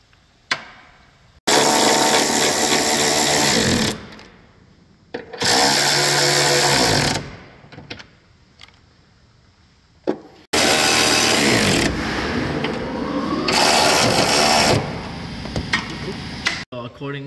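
A power tool tightening trailer hitch bolts under a 2021 Lexus NX300h, several loud sustained bursts of a few seconds each, separated by short pauses and sharp clicks.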